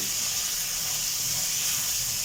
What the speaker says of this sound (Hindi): इन तमाम स्पाइसेस को डालने के बाद इसे हम अच्छे से फ्राई कर लेंगे